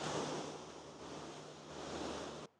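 Ocean waves wash onto a beach in a steady, loud broadband rush of surf, continuous and close with no voices, cutting off abruptly near the end.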